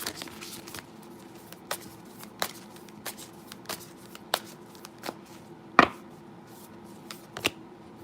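Tarot cards are shuffled and handled in a quiet room, giving a series of crisp, close riffling snaps spread across the stretch, with one louder flurry partway through.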